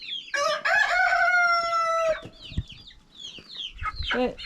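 Chickens in a homestead chicken run in a Bulgarian barnyard: a loud, close rooster crow stretches across the first half, followed by scattered clucks and short calls from the hens.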